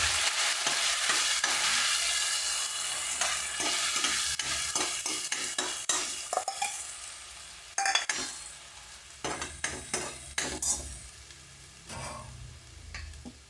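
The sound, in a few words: masala paste of coconut and onion cooking in hot oil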